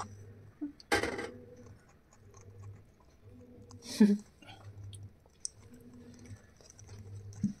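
A goat named Gaju chews dragon fruit seeds with soft, rhythmic crunching close by, broken by a few sharp clicks and scrapes, while a voice talks faintly now and then.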